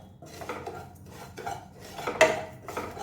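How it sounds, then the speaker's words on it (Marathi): Semolina being roasted in warm ghee in a pan, a spoon scraping and clinking against the metal in short irregular strokes, close and fairly quiet, with no talk. "तूप हलकंसं गरम झालं की त्यात आपण हा जो रवा काढून ठेवला आहे तो आपल्याला परतून घ्यायचा"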